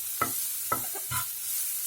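Onions and cumin cook in a pan over low heat, giving a steady soft sizzle broken by a few sharp scraping stirs, close and moderately quiet with no talking.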